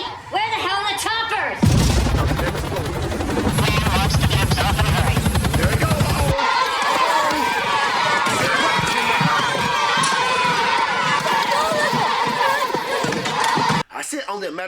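Military helicopters arrive in a war film scene, a loud, sustained rotor roar and engine whine filling the clip with crowd-like shouting and booming effects mixed in, beginning abruptly after a brief quieter opening.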